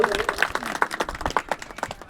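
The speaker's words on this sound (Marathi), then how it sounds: "आपण सर्वांनी टाळ्या वाजवा मंडळी." Scattered clapping from an audience at a religious celebration of Shri Dattatreya Prabhu's birth anniversary, uneven claps at a moderate level with some voices mixed in.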